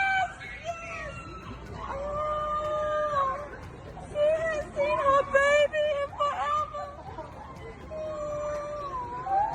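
A dog howls in long, wavering tones that rise and fall repeatedly, fairly close and loud, with other voices and noise mixed in at times.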